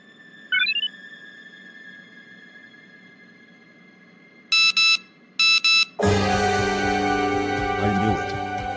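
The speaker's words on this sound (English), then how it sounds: "Did you pull the fire alarm?" A school fire alarm going off, with short electronic beeps early on, then a loud, continuous harsh ringing that takes over for the last few seconds and drowns everything else out.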